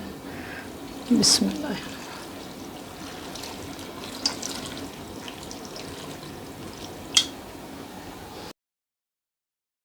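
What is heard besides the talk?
water poured into a cooking pot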